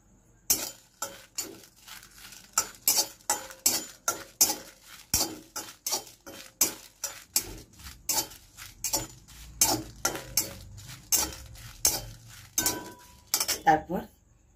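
Dried red chillies, whole coriander, bay leaf, fennel and cumin dry-roasting in a pan, with a spoon scraping and clinking against the metal in quick, steady strokes throughout, close and fairly loud with no talking.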